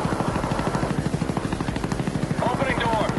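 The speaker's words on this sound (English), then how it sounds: "Friendly Healy on the way." A helicopter approaches in a shooter video game, its rotor thumping in a fast, even pulse throughout, loud and close, with a few faint chirps near the end.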